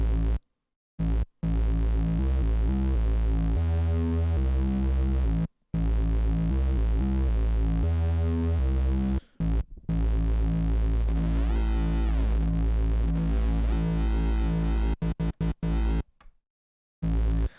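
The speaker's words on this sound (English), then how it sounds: "That's some deep rumbly bass." Deep, rumbly synth bass notes throb in a repeating pattern, loud and sustained, with short silent gaps between phrases.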